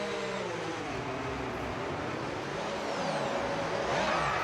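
A Williams Formula 1 race car engine at high speed: a steady, droning engine roar with shifting harmonic tones, moderately distant, continuous throughout with a slight rise near the end.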